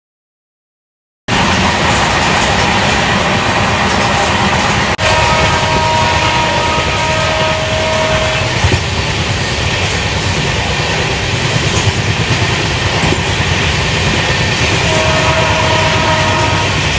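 An Indian passenger train on the way to Dharamsala rolls steadily with a loud, continuous rumble and clatter from close by. A horn sounds briefly twice, with no voices.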